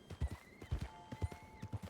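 Hooves of a horse in a video game clip-clop in a steady walking rhythm, a series of soft, evenly spaced thuds close by, with a faint tonal hum behind them.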